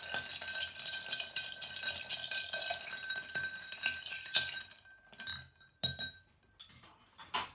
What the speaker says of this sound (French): Et maintenant, on rafraîchit et on mélange les ingrédients quelques instants.